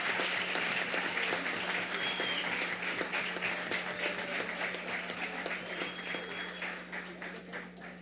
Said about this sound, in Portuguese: eu peço uma salva de palmas esfuziante para o nobre deputado autor dessa ideia